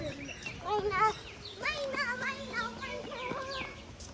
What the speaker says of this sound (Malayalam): ഇവിടെ മൈന